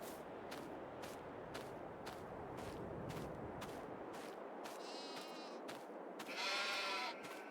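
Sheep in the Farming Simulator 22 video game bleat several times as a bale is brought to them, short nasal calls over a steady low rumble of game background noise.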